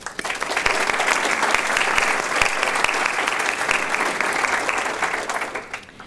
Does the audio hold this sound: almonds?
no